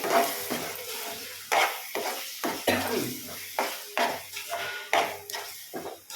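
Onion chutney cooks in a pan while a spoon stirs it, making repeated rhythmic scraping strokes and clinks against the metal over a soft, low sizzle.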